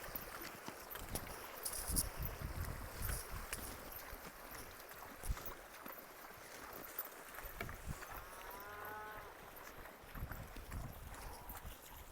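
Cows mooing at a distance amid outdoor farm noise, with a clearer low moo near the end and scattered rustling and knocks throughout.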